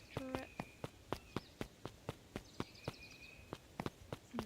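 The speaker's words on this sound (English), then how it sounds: "Luca heard a group of footsteps." Footsteps from the video game Beacon Pines, a steady run of sharp, evenly spaced steps about four per second, with light game chimes and chirps in the background.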